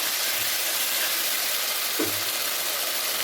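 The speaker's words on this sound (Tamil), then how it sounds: "நல்லா வேகிற மாதிரி இதை வதக்கிக்குவோம்" Sliced onions sauté in hot oil in a pan for a mushroom curry, giving a steady, close hiss and sizzle with a couple of faint low thumps from stirring.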